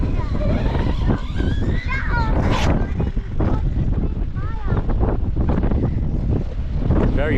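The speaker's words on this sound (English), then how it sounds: "Very windy today, isn't it?" Strong wind roars and buffets the microphone continuously, with people talking and calling out over the gusty rumble.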